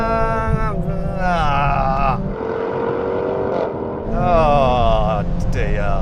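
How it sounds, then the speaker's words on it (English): A Mercedes-AMG A45 S and a Jaguar Project 8 in a rolling drag race from 50 mph, engines revving loudly and rising through gear changes, with wind roar between pulls, close by, no talk. "Now we're going to have a rolling race from 50 miles an hour with the cars in their comfiest settings"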